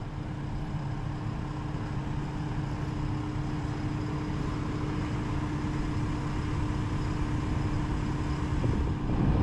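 A John Deere, Hyundai, Kobelco or Volvo excavator engine settles down from high revs, a steady mid-pitched diesel drone that stays loud and close throughout with no talking over it.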